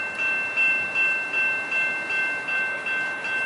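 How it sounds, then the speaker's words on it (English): A northbound Coaster commuter train passes, giving a steady broadband rumble with rhythmic swells roughly every half second like wheels over rail joints, fairly close and continuous with no talk. "here comes another northbound train"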